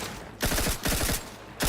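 Automatic gunfire from a weapon in a sci-fi video game, three loud rattling bursts in quick succession with short pauses between, close and harsh.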